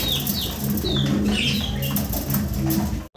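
Local gola pigeons coo in low, repeated throaty phrases close by, with bursts of wing flapping mixed in.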